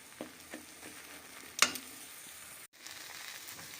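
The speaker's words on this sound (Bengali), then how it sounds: "অনবরত এইভাবে নাড়াচাড়া করে করে এই পুরো জলটাকে আমরা শুকিয়ে নিচ্ছি" Mustard greens chutney is stirred continuously in a pan to dry off its water, giving soft, quiet sizzling with a few faint scrapes and one sharp clink of the spoon, close and without talk.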